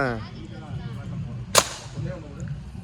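One sharp, sudden gunshot-like crack from a shooting stall in Kodaikanal stands out amid busy background chatter and ambient noise.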